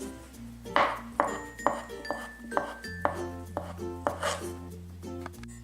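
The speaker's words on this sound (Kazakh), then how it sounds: "Осылайша крабтардың барлығын турап шығамыз." A knife chops crab sticks on a board in an even, brisk rhythm of about a dozen close taps, some blows leaving a light ringing clink.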